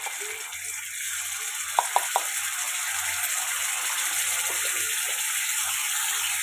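Ginger-garlic paste sizzles in a pan with fried garlic, tomato and green chili for a dhaba-style dal tadka, a steady, even frying hiss with a few brief utensil taps.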